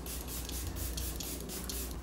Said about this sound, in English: I'm just gonna set everything with the Airbrush Flawless Setting Spray